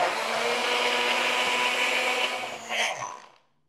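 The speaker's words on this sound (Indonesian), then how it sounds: "Baru kita blender." Kitchen blender grinding candlenuts with spices for a Medan-style noodle dish, a steady loud whir that holds for a few seconds, then winds down and stops.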